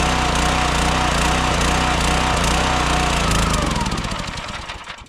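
A small-engine log splitter runs loud and close with a rapid, steady chug, then sputters and dies away as the carburetor runs out of fuel.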